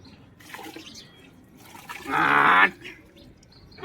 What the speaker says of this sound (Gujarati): પાણીનું પોતું મારે છે ગાડીમાં